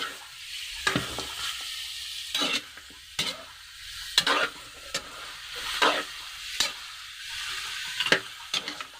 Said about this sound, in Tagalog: Sunod natin yung ating karne. Gisa natin ito ng maayos guys.